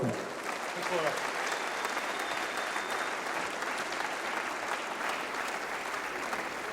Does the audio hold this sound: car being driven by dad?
no